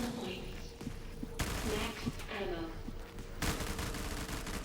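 Gunfire in Black Ops 3 custom zombies, a steady barrage of rapid shots and bursts running through the whole stretch, loud and dense, with a few sharper blasts standing out and no talking over it.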